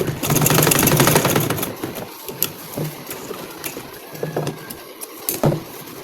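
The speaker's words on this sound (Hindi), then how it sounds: "इस पर मैं डबल सिलाई लगा दूँगी" A sewing machine double-stitches the scalloped edge of a kurti, running loud and fast in a close, rapid chatter for about two seconds, then dropping to quieter clicks and short bursts.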